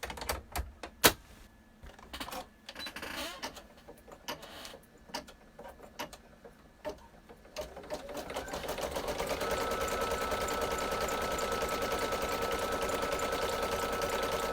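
An embroidery machine stitching the final step of a treat pouch, starting with irregular clicks and taps, then settling into a steady, fast, continuous mechanical hum and rattle that runs to the end.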